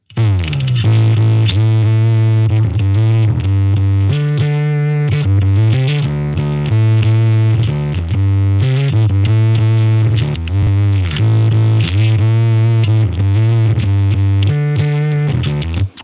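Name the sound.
electric guitar through amp model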